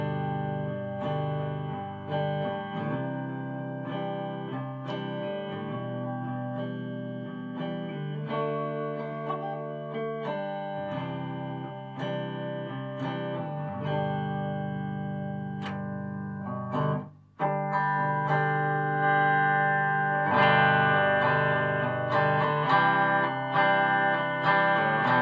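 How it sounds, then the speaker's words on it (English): Electric guitar played through effects, ringing chords and sustained notes in a steady, continuous passage with a brief dropout near the end, close and fairly loud, no talking. "Now this type of guitar is called an electric guitar."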